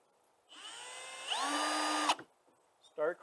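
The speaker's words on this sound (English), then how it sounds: "Use a regular screwdriver or drill driver." A drill driver spins T20 screws into a bluebird house, one sustained whine that rises in pitch, then stops sharply and is followed by a brief clatter.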